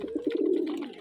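A pet pigeon gives a near, clear coo, a few quick pulsing notes swelling into a sustained throaty roll, loud and alone, during morning feeding.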